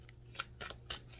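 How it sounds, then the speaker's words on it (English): Tarot cards being shuffled, three short papery riffling bursts spaced evenly over a low steady hum, fairly quiet and close. "Let me shuffle my cards"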